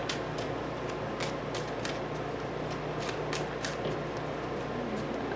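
Tarot cards shuffled by hand in a quick series of crisp riffling bursts, close and fairly loud against a steady low hum, with no talking.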